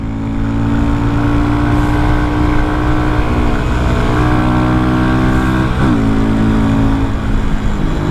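A Hero XPulse 230 motorcycle being ridden gives a loud, steady engine drone with a brief pitch dip, like a gear change, midway, and no talking over it.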